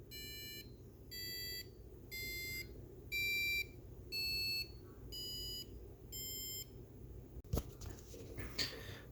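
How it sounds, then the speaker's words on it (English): Passive buzzer on an electronics lab bench sounds seven clear electronic beeps, each about half a second long with a brief gap between them, each at a different pitch like a short tune, followed by some handling noise. "here's the next lab using the passive buzzer."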